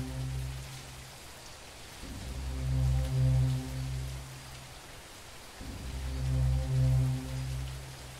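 Steady rain with a low rumbling swell that rises and fades twice, like distant thunder, in a dark game setting during a power outage, heard alone without voices.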